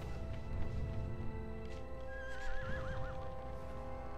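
Horse in Shadow of the Colossus on PS2 lets out a wavering neigh midway, over steady game background sound and low rumble.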